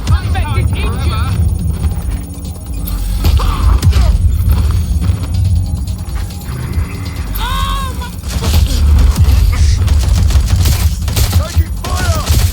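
Sustained gunfire in Watch Dogs Legion on the streets of London, rapid volleys and thuds running nearly throughout, with voices talking over the shooting.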